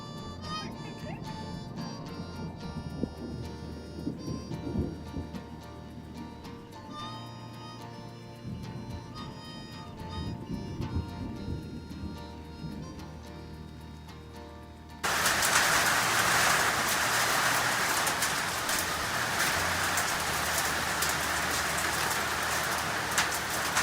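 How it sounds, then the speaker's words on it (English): A summer storm arrives as heavy rain suddenly starts partway through and pours down in a dense, constant hiss over the surface, loud and close, following a quieter stretch of tonal background sound. "it's beginning to storm out there"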